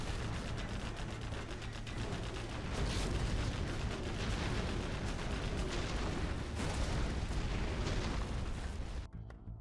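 Landmines detonate under a vehicle in the real-time strategy game Command & Conquer Generals Zero Hour, a loud, continuous roar of overlapping blasts and crackling battle noise that cuts off abruptly near the end.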